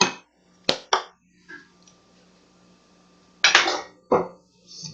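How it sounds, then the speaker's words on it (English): Fork clinking against a dish while mixing brown sugar and ground cinnamon, a few sharp scraping taps in separate bursts with quiet gaps between them, no talk. "Mix that with a fork."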